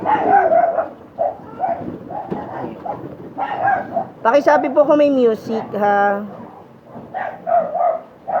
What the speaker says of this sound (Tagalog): Naririnig nyo na yung aso.